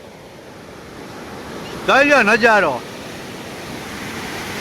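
A constant broad rush of the Moj river in Gujarat, fast-flowing water released from the opened gates of the overflowing Moj dam, roars steadily throughout, with someone briefly speaking over it in the middle.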